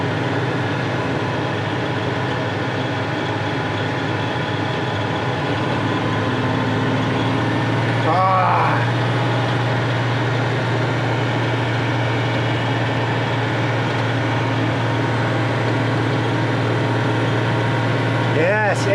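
Unimog engine drones steadily from behind the camera while driving uphill in 7th gear, a loud continuous low hum with whining mechanical tones and a brief rattle midway.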